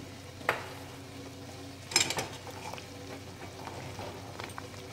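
Gram flour being stirred into a pan for zunka, with a low steady sizzle under scraping spoon strokes and a couple of sharper clinks against the pan, close and alone.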